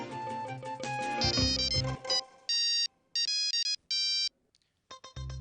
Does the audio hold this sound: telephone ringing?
yes